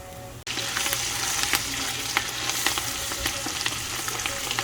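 Chorizo and bacon sizzle in a pan for frijoles charros. After a brief quiet moment, a steady, loud frying hiss starts, dotted with sharp crackles and pops.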